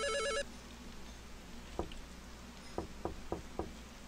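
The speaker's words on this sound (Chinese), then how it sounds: "刚刚电话响" A short electronic telephone ring opens a scene in a horror puzzle RPG, then a quiet ambience follows with a few sharp knocks, one alone and then four in a steady sequence.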